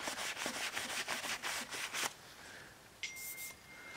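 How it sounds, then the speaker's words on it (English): A cloth wipes grease off a freshly machined steam engine cylinder in a workshop, making a rhythmic series of soft rubbing swipes that stop after two seconds, followed by a faint clink and thin high ring. "let's wipe off all the gunk"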